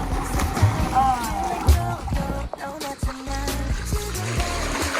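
Water splashes and trickles steadily from an outdoor shower at a family resort outing in Dolores, Quezon, under ongoing chatter and background voices.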